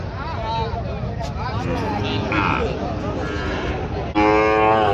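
Sahiwal cattle at a crowded border livestock market in Joypurhat, Bangladesh, with a low moo rising near the end over busy bargaining voices and background crowd noise.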